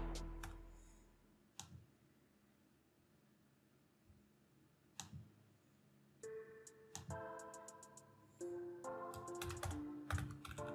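Keys on a computer keyboard being typed in scattered bursts, with isolated clicks early on and denser clacking toward the end, fairly close and alone with no talk.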